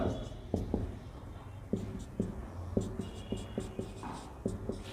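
Chalk tapping and scraping across a classroom board as a sentence is written in an English grammar lesson, a series of short irregular strokes at close range over faint room hum, with no talking.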